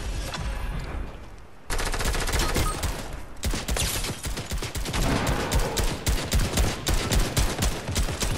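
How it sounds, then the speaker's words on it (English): Enemy gunfire in Fortnite, a dense stream of loud, rapid automatic shots and bursts rattling almost continuously after a short lull, close and overlapping with no speech over it. "Their teammates are shooting at me"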